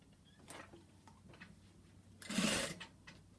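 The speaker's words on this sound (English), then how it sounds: "I will begin by doing an anchor stitch right here, right across the fabric and to the cord" A home sewing machine stitches a short anchor stitch through fabric and cord, with light mechanical ticks and clicks, then a brief louder whirring burst of stitching, close and otherwise quiet.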